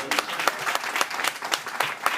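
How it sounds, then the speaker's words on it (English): Applause from the audience at a grand opening for an affordable housing development, brisk and steady clapping from a modest crowd, with individual claps standing out sharply, fairly close and without talk. "Give them a round of applause."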